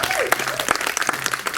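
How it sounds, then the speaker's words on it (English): Applause from a church congregation at a harvest revival night service honoring the vocalists, a short burst of clapping with some voices mixed in. "please a round of applause for them"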